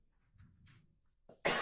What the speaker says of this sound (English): I've been coughing all weekend